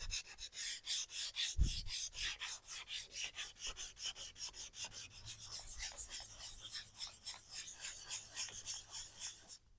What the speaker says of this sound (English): So I have some 220 sandpaper and I'm just going to see, because even though I did acetone and a stripper on it, I never sanded it.